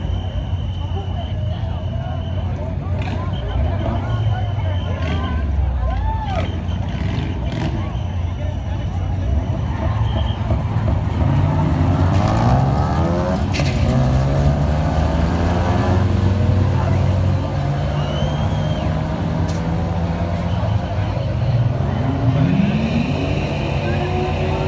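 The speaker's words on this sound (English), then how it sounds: "Scrubbing the tires off." A drag race car scrubbing its tires at Gateway International, with engine roars and revving rising and falling over a busy track crowd, while an announcer talks throughout.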